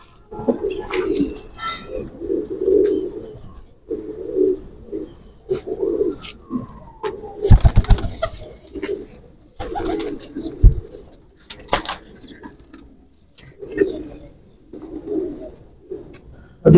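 Young Teddy Bullet pigeon squabs cooing close by, a series of soft, low, rounded coos repeating every second or two, with occasional sharp knocks and handling clatter between them.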